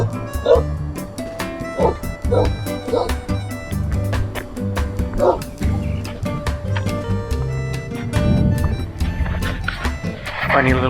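A small, scared dog barks repeatedly in sharp yips mixed with whimpers, close and loud, outdoors in the Tatra Mountains of Slovakia near a cemetery, with a person talking over it.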